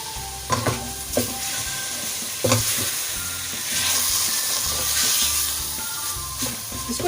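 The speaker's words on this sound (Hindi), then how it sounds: "इसको इतनी देर फ्राई करना है कि इसका कलर चेंज हो जाए" Finely chopped chicken frying in a pan, a loud steady sizzle swelling into a steamy hiss, with a few clanks of the spoon stirring and no talk.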